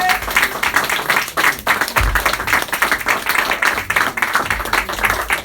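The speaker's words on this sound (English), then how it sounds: "Give another round of applause to the red and the blue pill." Audience applause at a Dr Delbert Blair tribute event in Brooklyn, a steady round of clapping from a crowd lasting several seconds, loud and continuous with faint voices mixed in.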